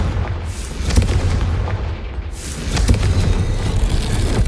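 Spell explosions from Confringo cast in Hogwarts Legacy, two deep booming blasts about two seconds apart with rumbling low-end tails over steady game ambience.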